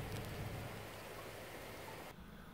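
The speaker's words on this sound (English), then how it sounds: "it's starting to rain harder and harder" Rain falling harder outdoors, a dense, steady hiss of drops filling the whole stretch at moderate level with no voices.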